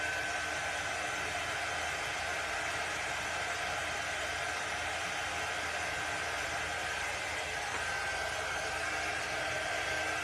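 A hair dryer blows steadily on wet paint on a butterfly craft, a constant close whooshing roar with no break and no talking.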